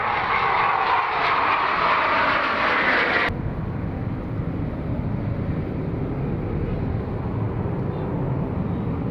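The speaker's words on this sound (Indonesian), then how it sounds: "karena sudah banyak pesawat tempur lewat-lewat ya" A loud low roar from a fighter jet passing overhead holds steady throughout, its brighter hiss cutting off abruptly partway through and leaving a rumbling drone as the aircraft carries on.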